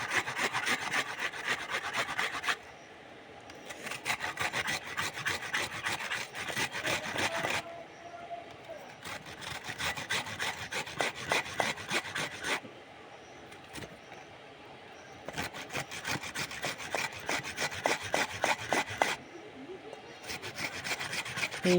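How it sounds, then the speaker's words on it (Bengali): An onion is grated by hand for a prawn curry, quick rhythmic rasping strokes in several bursts separated by short pauses, close and fairly quiet. "পেঁয়াজটাও ঘষে নিতে হবে এইভাবে"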